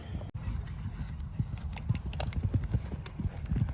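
Many horses' hooves clip-clop on the footing of a small, crowded warm-up arena at an eventing show, steady overlapping beats close by, with a brief whinny and faint background voices.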